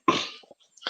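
A single sharp sneeze bursts out close to the microphone, then a brief quiet catch of breath follows and a second short nasal burst comes right after.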